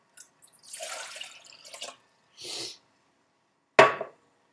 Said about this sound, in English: get this bowl, fill it with water.